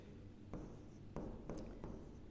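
Pen or chalk scratches out a complex-number formula in a few quiet, separate strokes, soft scraping bursts over a faint room hum with no voice.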